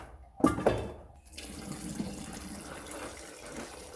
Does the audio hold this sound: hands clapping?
no